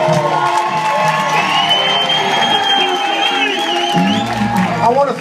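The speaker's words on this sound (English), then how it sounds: "I want you to give him a round of applause, man" A live concert crowd at a show cheers and whoops loudly, with mixed shouts and sustained crowd noise filling the space under a tonal backdrop.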